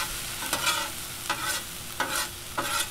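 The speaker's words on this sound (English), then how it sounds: "And then we incorporate the onions in the potatoes." Onions are mixed into browning potatoes for corned beef hash on a Blackstone 22-inch griddle, four distinct metal spatula scrapes sounding over a steady sizzle, close and alone.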